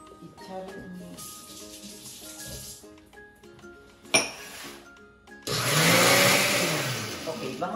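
A blender whirs loudly near the end, blending coleslaw dressing ingredients into a mayonnaise, after an earlier stretch of quieter kitchen sounds, clinks and a voice speaking.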